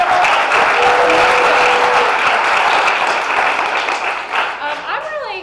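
Audience at a business presentation applauds loudly, with dense steady clapping and crowd cheers that taper slightly toward the end as voices emerge.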